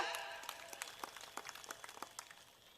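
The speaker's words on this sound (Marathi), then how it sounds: "एकदा साहेबांसाठी जोरदार टाळ्या वाजून त्यांना धन्यवाद द्या" Faint, scattered clapping from a crowd at a women's rally in Ranjangaon, with a few thin claps gradually fading away.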